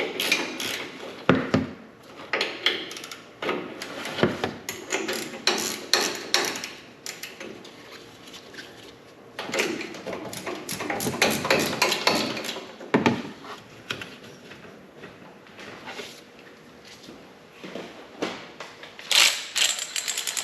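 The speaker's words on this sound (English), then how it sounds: "So I'm going to just use the ratcheting wrench." A ratcheting wrench clicks in rapid bursts while loosening seized strut mount nuts on a Dodge Ram truck, the clicks coming in uneven runs with short pauses between them, close and fairly loud.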